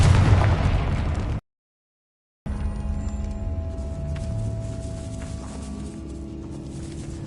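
A booming Confringo spell explosion in a video game bursts loudly with a rumbling blast, cuts to a brief silence, then gives way to a lingering low rumble and debris-like crackle.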